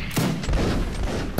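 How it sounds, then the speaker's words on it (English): Heavy cannon fire in a Napoleonic-era multiplayer battle game, several booming shots rolling together into a dense, loud volley with sharp reports near the start and end. "those are both insane cannon shots"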